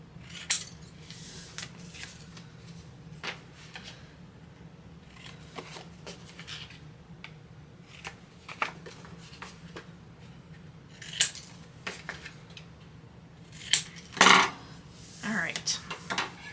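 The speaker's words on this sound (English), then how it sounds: "at the bottom where the score lines cross, we are going to cut all the way across" Scattered crisp snips and light rustles as paper for a gatefold scrapbook album is cut across score lines, faint and close, with short bursts of handling noise and a louder clatter near the end.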